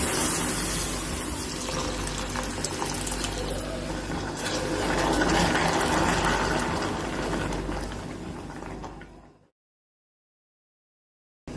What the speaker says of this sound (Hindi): थोड़ा थोड़ा आपने इसमें दूध डालना है